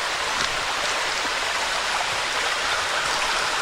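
A small stream pours over rocks beside a forest trail in Hickory Run State Park, a steady close rushing and splashing that holds even, with no voices throughout.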